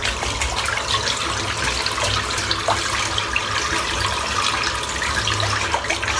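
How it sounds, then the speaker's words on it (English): A shaving brush is rinsed of soap under a running tap, a steady hiss of flowing water with soft splashing, close and continuous throughout. "Just rinse the soap off now."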